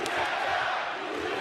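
Dense roar of a wrestling arena crowd at a live pro wrestling show, a steady wall of cheering and shouting that holds at the same level throughout.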